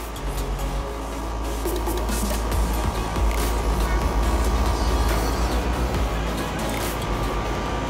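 R-410a condensing unit running while pressures are checked, a loud steady mechanical drone with a low hum and a pulsing fan whoosh, continuous throughout.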